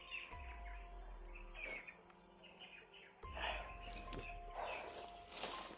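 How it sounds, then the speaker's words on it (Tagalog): Faint bird chirps come in scattered bursts over a low rumble, with occasional footstep-like thuds nearby. "yung mga ingay ng mga ibon tol"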